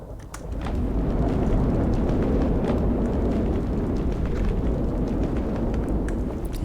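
Minecraft tornado mod tearing roofs off buildings, a loud continuous roaring rumble of wind and debris that holds steady for several seconds with no talk.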